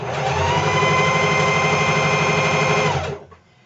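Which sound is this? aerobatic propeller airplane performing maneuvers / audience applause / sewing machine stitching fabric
sewing machine stitching fabric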